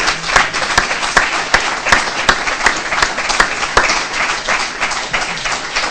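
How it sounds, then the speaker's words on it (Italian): An audience at an Italian talk on nuclear energy gives sustained applause for a speaker named Elisa, dense and loud, with a few sharp individual claps standing out. "E fare un altro applauso a Elisa perché è veramente brava."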